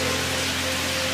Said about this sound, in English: Here we have beautiful rain.